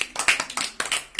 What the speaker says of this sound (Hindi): चलो ताली बजाओ।